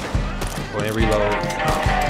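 Several sharp gunshots from Red Dead Redemption 2 crack in quick irregular succession, loud and close, with a voice talking over the shots.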